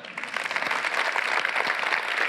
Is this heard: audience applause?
yes